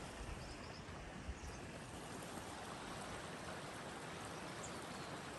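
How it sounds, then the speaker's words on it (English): The Green River flows beside a campsite in the Wind River Range, a soft, steady broadband rush of moving water that stays faint and even throughout with no voices. "We're sitting right along the river."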